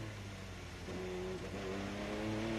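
A Porsche race car at Le Mans pulling hard out of Arnage corner, its engine note climbing steadily in pitch with gear changes, loud and sustained, heard in-car with no talking.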